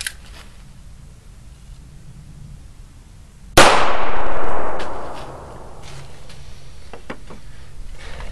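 A single loud .22 Magnum gunshot fired at a typical house wall cracks sharply and close, its report decaying over about a second and a half, followed by faint scattered clicks and rustles against low background hum.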